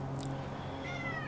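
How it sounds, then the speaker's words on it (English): A house cat gives a short, soft meow close by during a flight simulator session, a single brief call over a steady low engine-like hum. "Doesn't help I have a cat pushing on me."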